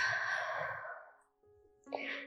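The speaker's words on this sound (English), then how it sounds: "Completely exhale through your mouth." Heard up close, a long, breathy exhale through the mouth during a yoga moon salutation fades out over about a second, and a softer breath follows.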